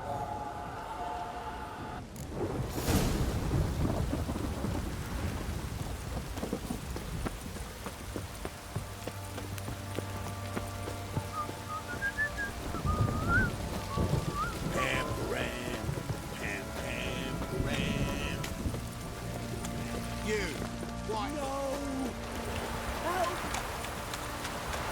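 Rain falls steadily in The Witcher 3 while horse hooves clip-clop along, with a low rumble and game ambience underneath and voices talking over it.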